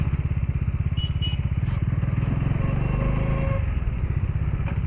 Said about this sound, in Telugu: అదిగో ఇప్పుడు సేమ్ సెకండ్ గేర్ నుంచి అలవాట్లో ఫస్ట్ గేర్కి వస్తాను.